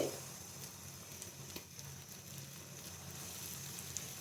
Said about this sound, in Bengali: সবগুলো জলপাই তেলের মধ্যে দিয়ে দিতে হবে।